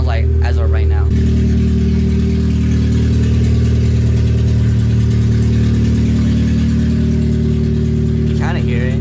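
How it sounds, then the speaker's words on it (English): A loud Acura RSX engine with an open header idles with a deep, raspy, unmuffled drone, steady throughout, with a person speaking briefly at the start and end. "the car is running open header. So here's what it sounds like as of right now."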